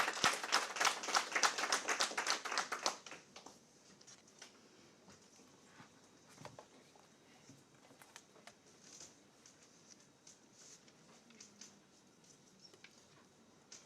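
Audience applause after a census results presentation, dense clapping for about three seconds that then drops to scattered faint claps and room noise.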